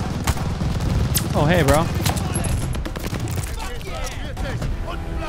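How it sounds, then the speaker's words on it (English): Sustained gunfire from the video game Call of Duty Vanguard, with dense, continuous bursts close and loud, while someone talks excitedly over the shooting. "Who the fuck is shooting me?"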